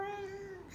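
A short, soft meow-like cry with a wavering pitch, sounding like a small child imitating a cat.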